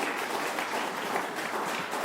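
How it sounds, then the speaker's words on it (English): Attendees at a monthly membership lunch-and-learn meeting give a round of applause: dense, even clapping from a roomful of people, sustained throughout without speech. "let's give them a round of applause for hosting this fabulous lunch and learn"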